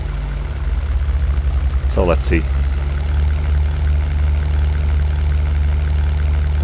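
A single-engine WWII fighter plane idles on a runway in the 1998 flight game European Air War, a steady low engine rumble that continues evenly while someone speaks briefly over it.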